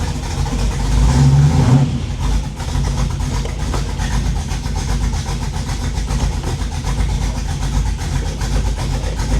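Chevrolet Monte Carlo SS V8 with a newly fitted transmission, revving loudly up close as it is run through the gears, a heavy surge at the start settling into a steady, rumbling engine drone.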